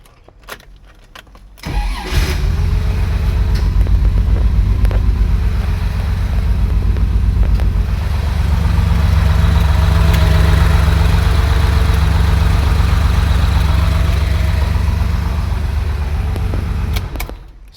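A Porsche 911E turns over briefly, catches, and settles into a loud, steady idle that runs unbroken nearly to the end, with a slight shift in tone midway; no voices.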